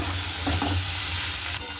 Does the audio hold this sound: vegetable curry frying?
yes